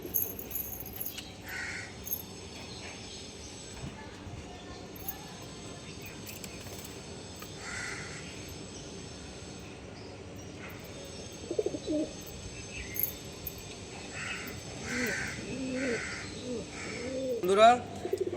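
Fulshira pigeons coo softly in a loft, faint scattered coos and chirps over a low hum, with occasional nearby rustles and a brief sharp chirp near the end.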